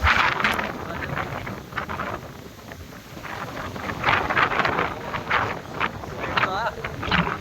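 Strong dust-laden wind gusts across an open rural area, roaring and buffeting in uneven surges against the microphone, with someone talking over the storm throughout.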